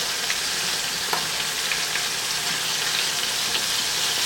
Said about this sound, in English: I'm frying the whole pack.